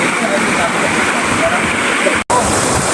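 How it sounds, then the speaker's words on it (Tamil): Water pours steadily through a breached embankment of an old pond, flooding nearby crop fields, making a loud, continuous roaring rush with only a momentary break. "தண்ணி கூடுதல வந்ததால் கட்டு வந்து உடைச்சி பாயுது"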